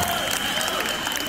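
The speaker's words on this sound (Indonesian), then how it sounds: "Tepuk tangan dulu buat beliau" Audience clapping for a guest being introduced at a comedy event, a dense steady burst of applause with crowd noise throughout.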